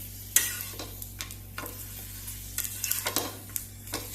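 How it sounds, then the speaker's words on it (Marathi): Papad being roasted in a pan by hand gives off soft scraping and crisp crackling bursts, intermittent and close over a low steady hum, with no speech. "हातूनच हांव तुमकां पापड कशे भाजून दाखयता"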